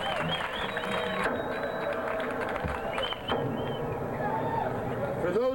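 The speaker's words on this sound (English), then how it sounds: "Let's have a big, warm round of applause for Jagger." An outdoor crowd at a hemp rally claps and cheers in steady applause for several seconds, with chatter and a voice mixed in.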